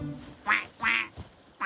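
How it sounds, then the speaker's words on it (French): A duck quacks three times, close and nasal, with short pauses between calls and a fourth quack starting at the end. "Je comprends la langue des canards"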